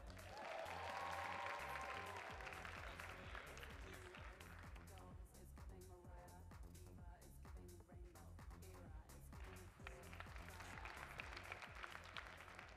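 Steady crowd clapping at a dance competition closing show for an honored dancer, sustained and fairly distant, with some voices and faint music beneath.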